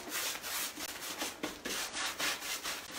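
A putty knife scrapes and rubs paint across a furniture surface in quick, repeated back-and-forth strokes, close and fairly soft with no talking.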